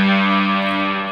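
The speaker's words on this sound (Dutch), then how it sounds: "En voor het extra laag doe ik nog een octaaf erbij." Electric guitar through reverb and a Whammy pedal adding a lower octave, one heavy sustained chord ringing thick and distorted, loud and close, fading slightly with no voices.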